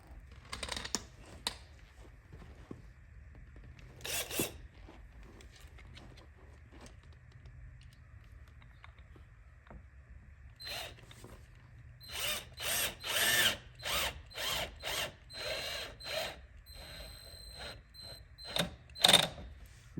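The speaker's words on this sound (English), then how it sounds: "you are tightening metal screws into plastic, so don't use force" Metal screws driven into a plastic front license plate bracket on a Lexus ES 300h, faint clicks and short ratcheting bursts, growing into a louder series of quick tightening rasps toward the end.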